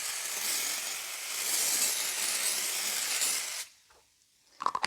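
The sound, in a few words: starch spray being sprayed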